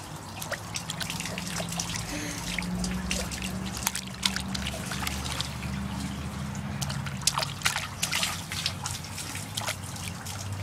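Water trickles and drips steadily, with a continuous low burble beneath frequent small splashy drips, fairly close and moderately loud for about ten seconds.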